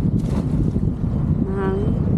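Wind blowing steadily at sea where people are fishing, a loud broadband rush that buffets the microphone, with a brief tonal whine near the end.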